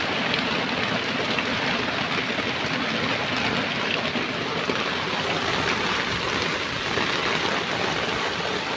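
Steady, heavy rain falls in a continuous rushing hiss that never lets up, with no voices.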